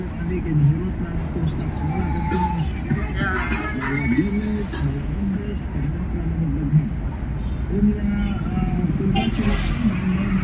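Morning street traffic on a school day in Tanjay City, a constant rumble of passing vehicles with engine drones and occasional horn-like tones, while a voice talks over it nearby.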